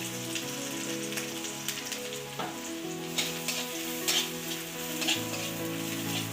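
Grated garlic fries in hot oil with dried red chilli and nigella seeds while cooking lau pata bata, a bottle gourd leaf paste. A steady, close sizzle crackles throughout, with soft tonal music in the background.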